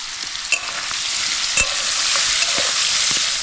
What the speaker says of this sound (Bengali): পানির ভাজা হয়ে গেল